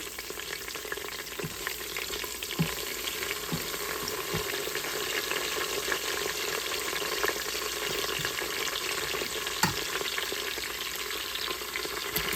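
Curry leaves fry in hot oil inside an Instant Pot, a steady close sizzle and crackle with scattered sharp pops, and no talking.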